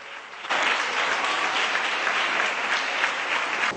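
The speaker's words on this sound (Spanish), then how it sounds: "este emotivo momento y este gran aplauso de los peñistas." Club members at a peña in Cádiz break into a big, warm round of applause that swells suddenly after a quieter start and holds steady and full to the end.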